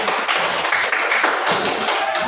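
Students in a classroom clap their hands together, a dense, continuous patter of many claps close by with little else audible.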